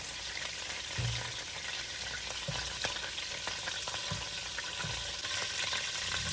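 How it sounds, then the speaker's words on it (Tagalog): Minced pork sautéed in a pan for palabok, a soft, continuous frying sizzle with occasional light stirring scrapes, fairly quiet and close, and no voices. "At gigisa na natin yung ating pork. Minced pork."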